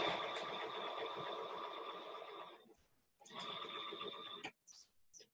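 Quiet, rapid mechanical whirring of a sewing machine stitching straight across fabric binding, running in one long burst, pausing briefly, then a second shorter run and a few clipped stops.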